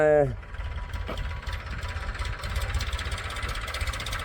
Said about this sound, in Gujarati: વધારે પડતા આપણે ચેમ્પિયન ટ્રેક્ટર જ રાખ્યા કારણ કે એ ધબધબાટી વધારે બોલાવે